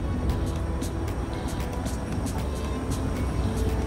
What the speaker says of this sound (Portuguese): Ó, caminhão passando normal